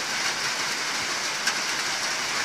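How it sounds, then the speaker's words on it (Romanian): Steady rain falls in Vrancea, Romania, in May 2018, a continuous dense hiss of drops with no pauses and no voices. "Ploaia nu se oprește deloc."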